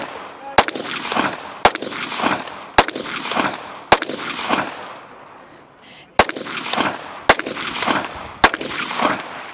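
Pistol fire on a competition shooting stage: seven sharp, loud reports spaced about a second apart, with a short pause after the fourth, each followed by a ringing echo.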